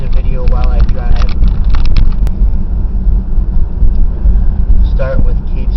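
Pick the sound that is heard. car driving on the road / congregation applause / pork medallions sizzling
car driving on the road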